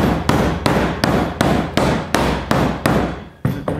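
A wooden mallet taps hidden seam tape along an upholstered furniture seam, about ten sharp, even knocks close up with a steady rhythm.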